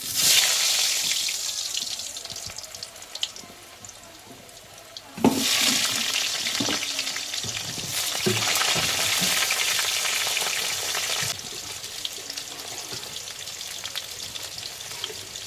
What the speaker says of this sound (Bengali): সর্ষের তেল দিয়ে দিলাম। আলুগুলো আবার ভেজে নেব।